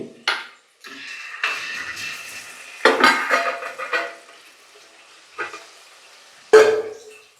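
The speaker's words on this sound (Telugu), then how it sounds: "టమాటా ముక్కలు వేసుకోవాలి అవి కొంచెం ఆయిల్లో మగ్గనిద్దాం ఇందులో చికెన్ యాడ్ చేసుకోవాలి" Chicken pieces land on tomato chunks frying in oil in a pan, giving loud bursts of sizzling with stirring and the clatter of a utensil against the pan, then quieter spells between.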